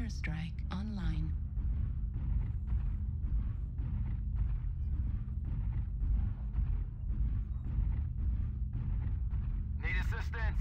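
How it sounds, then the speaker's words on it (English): Heavy rumbling blasts and booms from an airstrike in a video game, pounding in a steady repeated rhythm under a continuous low roar, with brief voices near the start and end. "Airstrike online."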